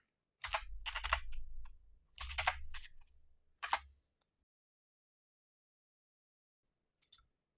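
Quick bursts of keystrokes on a computer keyboard while modelling in Blender, clustered in three short runs and then a lone tap after a long silence, quiet and close.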